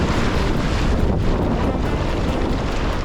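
Strong wind roars and buffets the microphone while a dinghy sails across the North Sea, a steady, dense rush with water and hull noise blended underneath and no voices.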